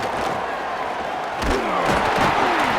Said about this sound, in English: Very little will make a crowd hold its breath like a punt return, and he brought them to their feet on that one.